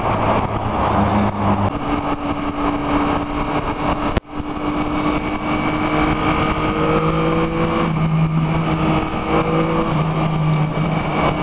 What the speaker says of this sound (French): Il y a une petite sonorité très sympathique avec l'échappement d'origine.